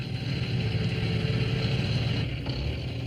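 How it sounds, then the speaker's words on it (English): A powerful tractor fitted with a bulldozer blade approaches along a road in a cartoon: a steady, loud engine rumble that holds evenly throughout, with no talking. "he heard a powerful engine coming up the road on the other side of the blockage"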